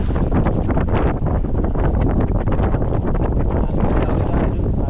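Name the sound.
wind blowing on the sea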